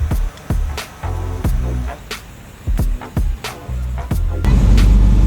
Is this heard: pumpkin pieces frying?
no